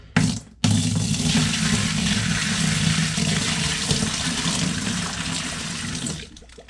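Dirty water pours and drains off the coils of a Garrison portable air conditioner after cleaning, a steady close splashing gush that starts abruptly and fades out at the end.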